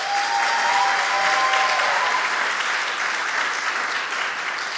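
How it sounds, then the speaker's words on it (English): Sustained audience applause fills a showcase event hall, a dense steady clapping that stays loud throughout with no pauses. "Give them one more round of applause."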